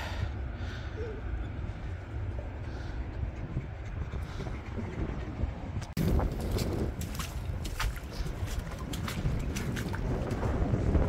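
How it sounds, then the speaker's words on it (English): Strong wind blows across the beach at Runswick Bay near Whitby, a steady broadband roar and buffeting. It swells into louder gusts about halfway through and carries on without a break. "Oh, it's quite windy."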